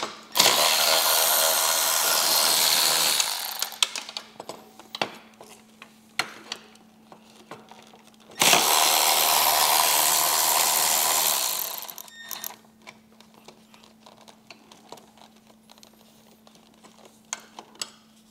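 Power tool or ratchet removing bolts from a Harley-Davidson speaker pod, with two long bursts of loud whirring and clicking separated by quieter clicks and taps of handling, close up with no talk.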